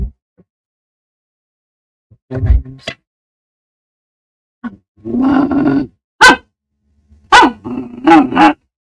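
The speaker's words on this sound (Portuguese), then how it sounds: "Aqui é minha cachorra lá." A dog barks several times indoors in short, separated bursts, some single and some doubled, loud and close with silence between them.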